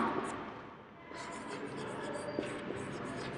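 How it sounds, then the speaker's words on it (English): Chalk or marker scratches steadily across a classroom board in a science lesson, a continuous close scraping with faint background voice. "first I will write here"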